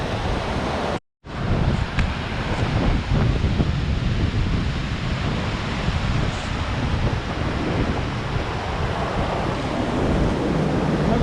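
Loud, steady rushing roar of a river near a hydro dam intake, running high after several days of heavy rain; the broadband wash continues unbroken apart from a brief dropout near the start.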